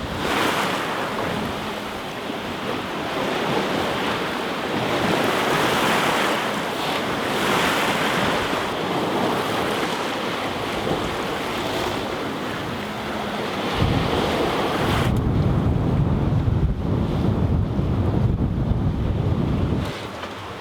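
Waves and wind at sea aboard a sailboat under way, a continuous rushing surf and wind roar on the hull that surges in pulses and grows heavier and lower near the end.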